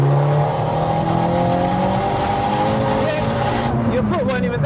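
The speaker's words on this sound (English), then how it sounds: "The way it overwhelmingly spins in third, like, it's trying to grip, but it's like, nah, fuck it, we're spinning." A 387hp turbocharged front-wheel-drive Corsa pulls hard in gear with its tyres spinning, the loud engine note steady and droning up close, climbing slightly near the end, while people talk over it.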